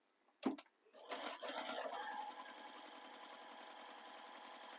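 A sewing machine stitches a bag corner, starting after a sharp knock and running as a rapid, steady mechanical rhythm of needle strokes that gradually settles slightly quieter, close and without talking.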